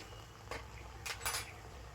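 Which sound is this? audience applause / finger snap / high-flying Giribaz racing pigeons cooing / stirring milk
stirring milk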